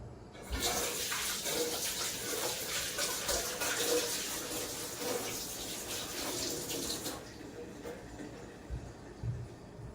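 Running tap water pours steadily as flour is rinsed off hands at a sink, a close continuous splashing gush for several seconds that then cuts off, leaving faint room noise and a few small knocks.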